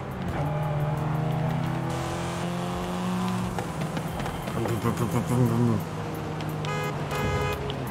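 A 1990 Mercedes 190E engine in Forza Horizon 5 drones steadily at idle, then revs up and down in rising and falling pulls, close and loud throughout.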